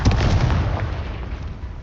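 Confringo fire spell blast from the Hogwarts Legacy video game: a dense, booming explosion with a rumbling low-end burst that rolls on and gradually fades, loud and close, with no voices.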